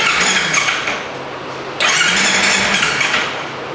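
A Kawasaki Ninja 300 with an auto choke problem idles loudly up close, dips briefly, then revs back up with a sharp rise and holds a steady, slightly rough idle; no talk.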